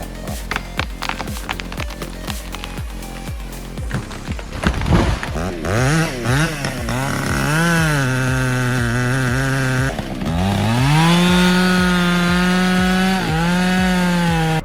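A handheld chainsaw with a 2-stroke engine of up to 5.5 HP cuts into wood: first a rapid rasping burst, then a loud, close, sustained engine whine that rises and holds under load, with no voices.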